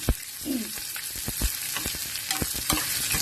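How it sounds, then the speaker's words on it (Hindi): Chopped onions sizzle steadily in hot oil in a pan for a zucchini-peel recipe, with repeated scraping stirs of a spoon knocking against the pan at an uneven rhythm, close and continuous. "प्याज डालकर हमको लाल करना है"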